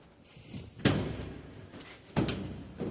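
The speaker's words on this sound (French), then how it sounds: "Vous allez ouvrir la porte." A theatre door being opened, heard as two distinct heavy thuds with clattering, the second a little over a second after the first, both fairly close and standing alone without talk.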